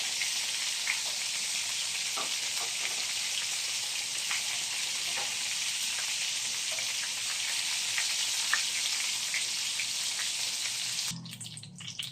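Jumbo chicken garlic longganisa sausages fry in a pan with a steady, dense sizzle and scattered pops and crackles. The sound runs close and loud for about eleven seconds, then drops sharply.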